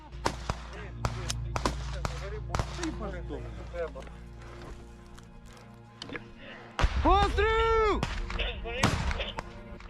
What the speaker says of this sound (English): This time, the men make use of a disposable shoulder-fired rocket launcher.